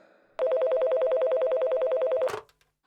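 Electronic telephone ring, a steady warbling trill that sounds loud and close for about two seconds before cutting off abruptly, played as a sound effect on a comedy podcast.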